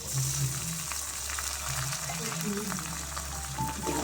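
Chopped ginger frying in a pan for prawn pickle, a steady, even sizzle running throughout at moderate volume, with a voice talking over it.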